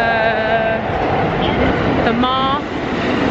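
A train rolls past in Odaiba, Japan, a loud, close mechanical rumble with high squealing tones, while a person talks over it.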